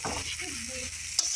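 Onion stalks, seasoned with a little turmeric and salt, fry in a pan with a steady, soft sizzling hiss and a faint stirring scrape.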